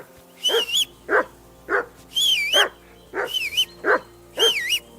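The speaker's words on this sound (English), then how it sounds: "Henry, that barking's driving me nuts. Can you get your dog to shut its beak?" Dog barking over and over in Kingdom Come: Deliverance II, about eight sharp, close barks in a quick, uneven rhythm, some rising into whiny yelps; no talk.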